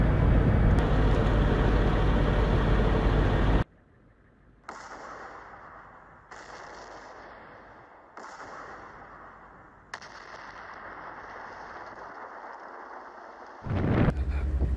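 A US rocket launcher firing during Jordanian army training, a loud roaring blast that cuts off abruptly, followed by stretches of hissing, rumbling noise with sharp breaks and another loud burst at the end.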